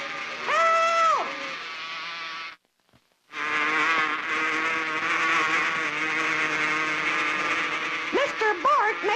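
Cartoon swarm of wild bees buzzing, a loud close drone with wavering pitch that cuts out briefly and returns, rising and falling whines near the end.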